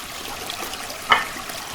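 Gentle trickling of a shallow creek at a streamside spot, continuous and close, with one sharper splash midway through.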